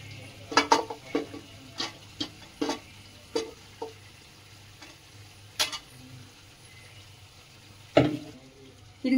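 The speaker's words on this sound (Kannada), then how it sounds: "ಇಟ್ಟುಕೊಂಡ ಮಿಶ್ರಣವನ್ನು ಮಿಕ್ಸ್ ಮಾಡ್ತೀನಿ." A prepared spice mixture is stirred into cooked chicken in a pan for chicken ghee roast: irregular scraping, clinking strokes of a spoon against the pan over a quiet low sizzle, with a louder scrape near the end.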